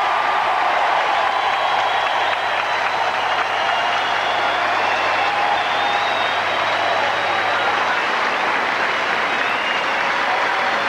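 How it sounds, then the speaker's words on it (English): A New York tennis crowd applauds and chants a player's name, a dense, steady roar of clapping and voices filling the whole stretch at an even loudness. "And now the crowd is chanting, Alex, Alex"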